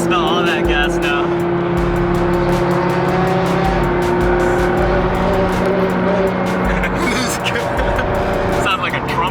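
A Nissan GTR sports car's exhaust roars loudly and continuously on a highway, with rapid crackling pops and a brassy drone, close by, while people talk over it.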